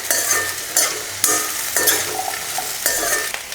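Whole shallots frying in a pan for bitter gourd thokku, bright sizzling broken by several distinct stirring scrapes and clinks of a spatula at irregular intervals, close and fairly loud.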